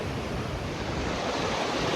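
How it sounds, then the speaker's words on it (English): Water rushes through a small rocky gorge in the Mourne mountains, making a continuous, loud, dense roar with no breaks and no voices. "it's very noisy down here, sort of in this bit of a small gorge channeled out by the water"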